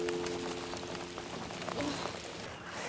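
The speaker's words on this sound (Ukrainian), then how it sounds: "Пішов дощик, дивіться." Rain beginning to fall outdoors during a motorcycle-season outing in Kyiv, a steady broadband patter of drops that stays fairly even throughout, with a low hum underneath and no talk.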